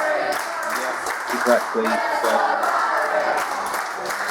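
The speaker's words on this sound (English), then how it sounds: "Listen to that crowd" Wrestling crowd at an SOS Wrestling event roaring and applauding steadily throughout, a dense wash of cheers with a voice speaking briefly over it.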